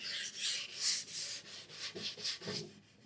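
Sandpaper worked by hand over a cherry wood side table, a soft rhythmic rasping of back-and-forth strokes, about ten passes in three seconds, close and fairly quiet with no voices.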